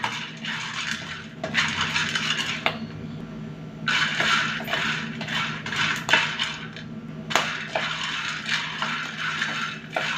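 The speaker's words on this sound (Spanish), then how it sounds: "Y así es pendiente estarlo revolviendo hasta que todo se ponga tostadito." Maize kernels are stirred while toasting in a pan to make cañanga or arifuque, giving close, repeated bursts of dry rattling and scraping with brief pauses between strokes.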